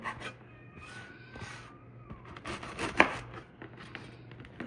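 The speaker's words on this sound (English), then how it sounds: "We're gonna cut them further into cubes like so." A knife chops stale bread into cubes on a board, a few soft cutting strokes plus one sharp knock near the middle, all close and fairly quiet beneath a low steady hum.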